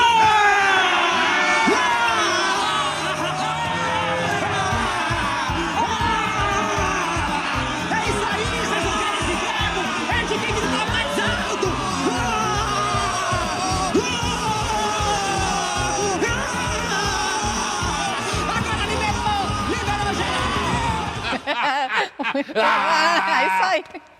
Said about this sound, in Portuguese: Porque agora eu quero ouvir o grito da selva!